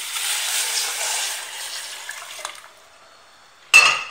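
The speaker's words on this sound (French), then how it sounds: "je rajoute de l'eau." Water poured from a tap or jug into a cooking pot of browned meat for Moroccan harira, a close splashing fill that fades off, followed by a short clatter near the end.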